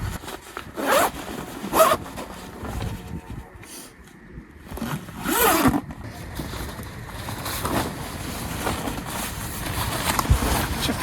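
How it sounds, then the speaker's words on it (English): A dry suit is zipped up before kayaking on Ullswater in winter: several quick zipper pulls ring out close, with breathy wind and outdoor rustling between them and no talking. "just get my dry suit on"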